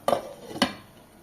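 Two quick metallic clinks a half second apart as a lid is set on a pot of simmering Tamil egg gravy, close and crisp, with a faint low bubbling behind.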